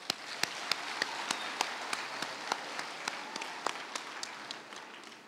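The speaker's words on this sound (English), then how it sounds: "Another hand clap." At a Kenyan Girl Guides installation ceremony, an audience claps in crisp, evenly spaced, rhythmic beats, steady and moderately close with no talking over it.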